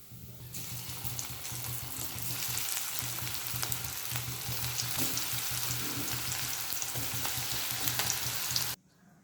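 Aval pakoda, flattened-rice fritters, fry in hot oil with a loud, steady crackling sizzle that runs without a break for about nine seconds, then cuts off.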